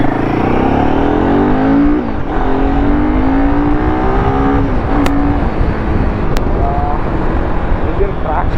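A Royal Enfield Himalayan 450 motorcycle cruises in fourth gear at about 64, its engine humming steadily and loudly under heavy wind rush, with slight pitch rises as it accelerates.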